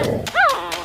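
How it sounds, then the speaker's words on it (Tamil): A dog gives a single short bark or yelp in a school setting, close and fairly loud, with a couple of light thuds around it. "நாய்."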